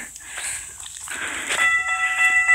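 A train at the Hargrove Grade railroad crossing in Palm Coast, Florida, with rumbling rail noise rising as a tonal horn or whistle sounds steadily over the last second, loud and close.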